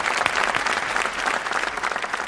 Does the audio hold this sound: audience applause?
yes